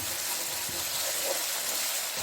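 About half a cup of water is poured into chicken frying with black pepper for chicken jalfrezi, giving a continuous loud hiss and sizzle with no talking.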